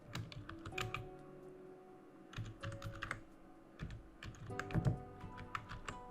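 Someone types on a computer keyboard at a quick, uneven pace, with the clicks coming in short bursts. The sound is faint and close, over a low background hum.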